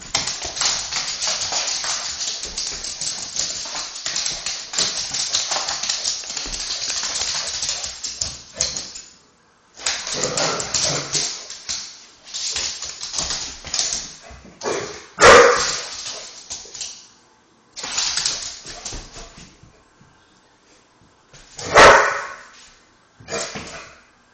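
A pit bull barks and yaps repeatedly in bursts, loud and close, with brief pauses between volleys and a few sharper yips.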